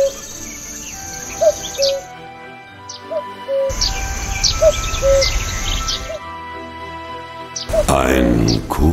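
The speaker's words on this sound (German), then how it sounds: "Ein Kuckuck." A cuckoo calls in the video game The Night of the Rabbit, short soft notes repeating among chirping birds and insect buzz in an outdoor game soundscape, with a louder burst of ambience near the end.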